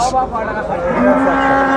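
A local bull lows loudly and close by at a crowded cattle market, one long drawn-out moo that fills the short stretch.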